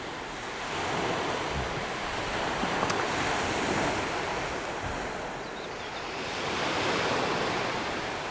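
Sea waves wash steadily onto the beach at Lyubimovka, a continuous surging roar that swells and eases, mixed with some wind buffeting the microphone and no voices.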